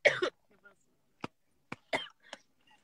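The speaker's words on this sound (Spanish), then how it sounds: "Ustedes saben que la tos ya es parte de mí." A person with pneumonia coughs: a harsh burst at the start, then a few shorter, quieter coughs and throat clearings spaced out in near silence.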